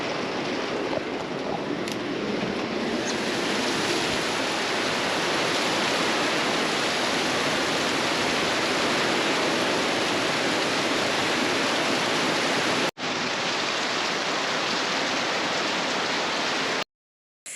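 Heavy wet-season rain pours down outside in a loud, unbroken rushing hiss, steady and close for the whole stretch, briefly cut once near the end.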